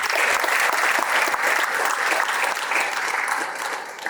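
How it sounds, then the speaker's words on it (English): Dense, sustained applause from the crowd at a U.S. naturalization oath ceremony, loud and even throughout before easing slightly at the end. "Let's get one more collective round of applause for everybody"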